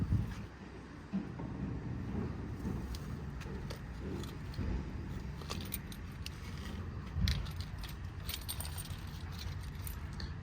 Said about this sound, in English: Two sets of keys for the truck.